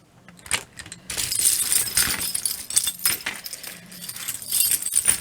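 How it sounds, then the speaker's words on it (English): Glass beads, crystals and spacers from vintage jewelry are handled up close, producing bright clinks and jangling rattles in bursts and clusters, loud and busy with brief pauses between handfuls. "Again, glass beads and crystals and spacers."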